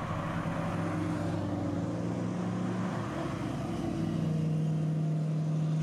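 A De Tomaso Pantera's Ford 351 Cleveland 5.7-litre V8 drones steadily at moderate volume, its pitch shifting slightly as the revs rise and fall, with no other sound.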